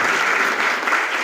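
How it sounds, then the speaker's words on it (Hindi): Steady applause from a seated audience at the inauguration of the Dr. Bhimrao Ambedkar library in Marehra, a dense, even wash of clapping held at full strength throughout. "एक बार जुड़ाई साहब के लिए तालियां बजाएं"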